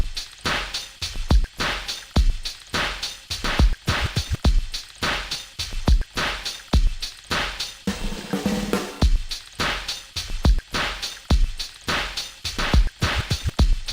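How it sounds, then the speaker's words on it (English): A drum loop made in BeepBox repeats steady, punchy kick and snare hits in a fast, even rhythm, loud and continuous, with no voices over it. "it's just a drum loop, right?"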